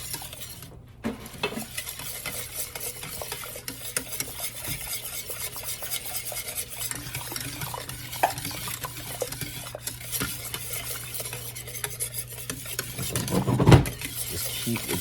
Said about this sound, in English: Keep whisking until it thickens nice up.